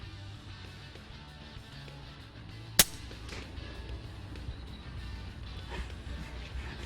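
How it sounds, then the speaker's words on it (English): A single suppressed gunshot through a Predator silencer, with no supersonic crack, lands as one sharp, brief pop midway, set against a low, steady outdoor background. "I want you to listen for the noise that the silencer makes"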